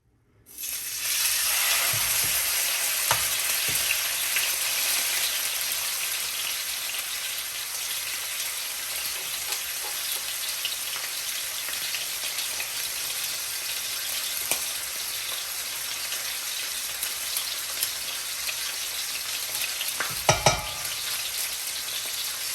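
A T-bone steak fries in oil in a pan, a loud, close, constant crackling sizzle that starts abruptly and runs on evenly, dotted with sharper pops and a brief clatter near the end, with no talking.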